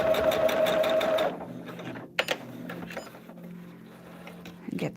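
A sewing machine stitches fabric stars onto a quilted table runner in a steady, fast whirring run that stops after about a second, followed by quieter handling clicks and rustling.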